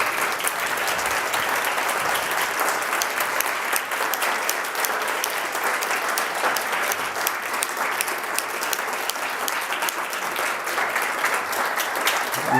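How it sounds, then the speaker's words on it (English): Sustained audience applause for mentors at a food hackathon final, loud and dense throughout, steady clapping from a large crowd with no talk over it. "we want to give you a big round of applause for all the work you've done."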